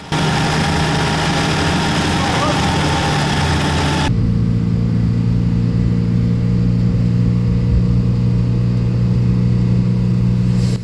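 An old diesel Mercedes-Benz 200D W115 car drives steadily on the road, its low engine drone continuous and loud throughout, with the tone shifting partway through as the engine note changes.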